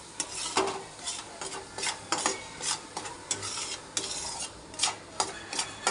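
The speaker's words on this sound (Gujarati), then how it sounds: "હવે થોડી વાર હલાવશું" Repeated scraping strokes of a spoon stirring a thick mixture of roasted flour, ghee and cream in a pan, with a soft sizzle underneath and no talking.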